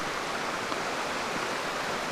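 Small waterfall cascades with a steady broadband rush of falling water, constant and fairly close, with no talking.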